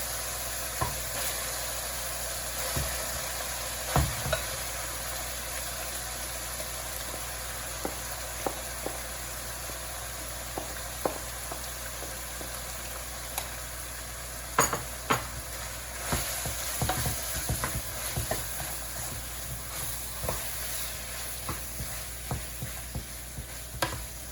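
Rice stir-frying in a pan at home, with a constant loud sizzle and hiss broken by frequent sharp clacks and scrapes of a spatula tossing the rice, close and sustained throughout, with no voices.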